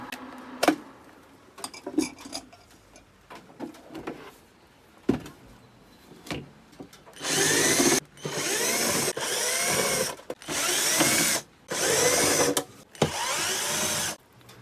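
A power screwdriver backs screws out of an induction cooker's casing during disassembly: after some quiet clicks and handling, five loud whirring bursts of a few seconds each follow in close succession.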